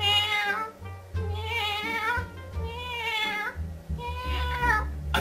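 A voice imitates a cat, giving three drawn-out, rising meows in a row, loud and close, with short pauses between them.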